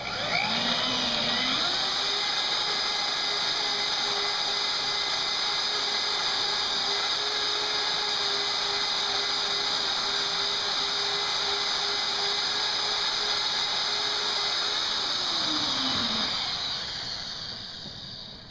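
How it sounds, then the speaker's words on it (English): A power drill whines at a steady pitch for about fifteen seconds, boring continuously into poplar wood, then winds down and stops. "Stop the drill, back the bit out, clear the hole."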